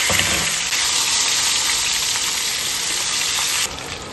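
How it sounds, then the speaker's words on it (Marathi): Brinjals fry in a covered pan over medium gas, giving a steady, close, loud sizzling hiss that runs throughout and drops slightly near the end. "याला झाकण लावून मीडियम गॅसवर आपल्याला ही वांगी परतून घ्यायची आहे"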